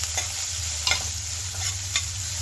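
Grated ginger and green chillies sauté in hot oil with cumin and ajwain, giving a steady close sizzle. A few brief stirring scrapes break through at irregular moments, and there is no talking.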